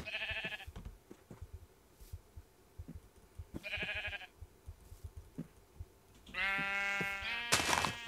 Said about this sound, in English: Let's kill this sheep, and this should be the last sheep that we should need.